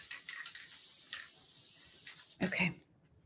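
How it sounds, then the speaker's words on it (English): Spray glue hissing from an aerosol can during a decoupage Easter craft of a mason jar cut-out, a steady close spray for over two seconds before a short burst of handling noise and a fade. "Does your spray glue get clogged sometimes?"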